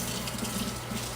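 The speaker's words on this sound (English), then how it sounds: "Rinse this thing out and wash it real quick." Tap water runs into a non-stick pan in a sink as it is rinsed out, a steady close splashing rush that fills the short moment without pause.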